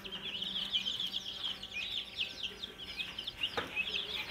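Newly hatched chicks of local chickens and ducklings, fresh from an incubator, give a faint, busy chorus of high, rapid peeps that overlap continuously, with a soft background hum.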